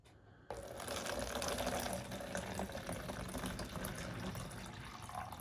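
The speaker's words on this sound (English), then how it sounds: "I'm going to add some water to our container here" Water is poured into a container, starting abruptly after a brief quiet moment and continuing as a steady splashing, gurgling fill at moderate loudness with no talking.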